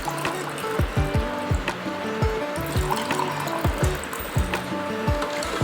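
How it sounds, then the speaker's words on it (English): Water trickles and is poured into glasses for a 10th-class science experiment making a turmeric solution, a steady close liquid filling sound with repeated gurgling pulses running throughout, no talk. "To make turmeric solution, we need to add turmeric to water in both the glasses."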